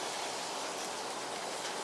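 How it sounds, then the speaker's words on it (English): Steady rain falling near Portland, Oregon, a dense, even hiss of drops filling the whole stretch with no pauses and no voices. "Just now as the rain starts."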